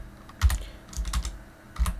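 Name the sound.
typing on a computer keyboard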